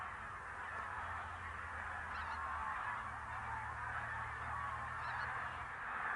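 Large flocks of geese honk over Lake Neusiedl in autumn, a dense, distant chorus of overlapping calls forming a steady wash of sound with a low hum beneath.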